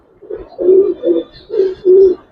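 Pigeons, Giribaz and silver breeds, cooing close by in a series of four or five soft, low, throaty pulses, clear and alone.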